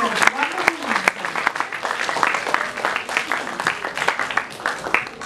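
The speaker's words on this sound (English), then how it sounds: "Could we all have a huge round of applause for your wonderful mentors?" A school audience applauds student mentors at an eighth-grade product launch event: dense, lively clapping with sharp individual claps that carries on steadily throughout, with some voices mixed in.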